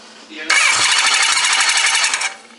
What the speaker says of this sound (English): And only when I start the bike.